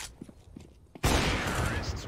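A sudden loud burst of CSGO gunfire erupts after a second of quiet with faint background shots, continuing as a dense, close barrage.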